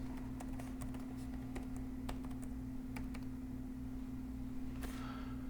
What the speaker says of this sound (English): If I go over here and type in an IP address